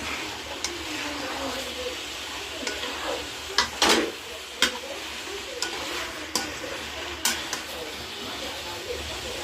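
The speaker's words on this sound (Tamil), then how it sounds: "இஞ்சி பூண்டு பேஸ்ட்டு போட்டு எல்லாத்தையும் மிக்ஸ் பண்ண போகிறேன்." Ginger garlic paste frying in a pan while being stirred, a steady close sizzle broken by repeated scraping clacks of the spoon against the pan.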